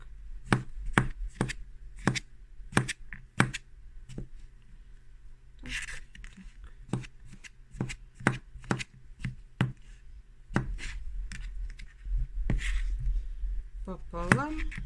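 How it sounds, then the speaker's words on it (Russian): A knife chops mushrooms into slices on a cutting board, with sharp, distinct knocks in an uneven steady rhythm, close and fairly loud, while someone talks over part of the chopping. "теперь мы эти грибочки будем резать"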